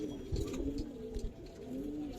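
Italian Mushaldam pigeons on a Bangladeshi pigeon farm coo repeatedly in low, throaty, rolling calls, several birds overlapping close by at a steady, even level.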